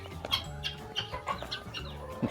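Repeated sharp, rhythmic calls from guinea fowl, close by, coming in quick succession with a chattering quality.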